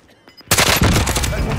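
Sniper gunfire in Call of Duty Warzone, a sudden loud crack after near silence followed by a sustained burst of rapid shots and echoing reports, close and dense.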